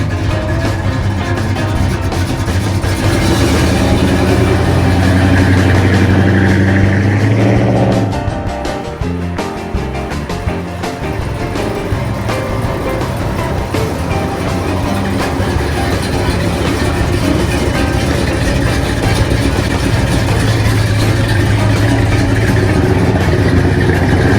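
A 1963½ Ford Galaxie 500 with a 390 V8 and Tri-power carburetion idles steadily and close by, a deep continuous rumble that briefly shifts around the eight-second mark before settling back into an even idle.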